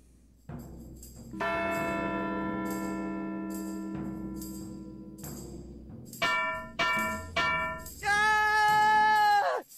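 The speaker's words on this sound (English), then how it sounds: "Okay, now I probably can use the bell now." A bell rings in the point-and-click game Edna & Harvey: The Breakout, with a long, resonant, sustained toll followed by several quicker, brighter chimes that build to a final loud ring, heard alone without voices.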